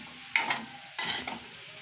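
Soaked, swollen soybean chunks are stirred and fried in a pan, with two short, close bursts of sizzling and scraping stirs over a low, steady background hiss.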